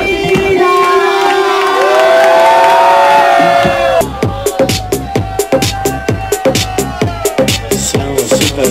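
A club crowd at La Capannina in Alassio on the Ferragosto night of 15 August 2009 cheers and shouts loudly for about four seconds, then a pounding dance-music beat kicks in with steady, rhythmic thumps.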